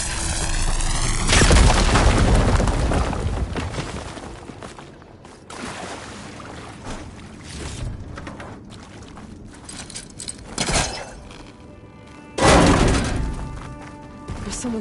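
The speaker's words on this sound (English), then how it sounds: "Should be able to blow up that fire gleam" A fire gleam exploding in the game Horizon Forbidden West, a series of heavy booms and crashing blasts, the loudest near the start and another big burst toward the end, with quieter rumbling and debris between, no talk.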